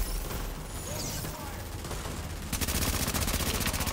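Gunfire in The Division shooter game comes as dense, rapid bursts of shots, building into a loud, fast rattling volley over the second half.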